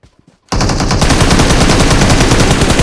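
After a moment of near silence, a loud burst of rapid automatic gunfire erupts and continues without pause, dense and harsh.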